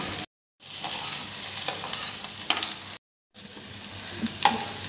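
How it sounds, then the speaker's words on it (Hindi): A large chopped onion sizzles in oil in a pan, a steady frying hiss close up with occasional stirring scrapes, cut twice by short breaks of silence. "इसको हल्के से हमने सोते करना है, इसको गोल्डन नहीं करना"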